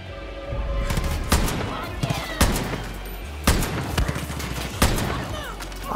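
Gunfire in the video game Far Cry New Dawn: a continuous burst of rapid shots with heavy, booming single reports at regular intervals, loud and close throughout.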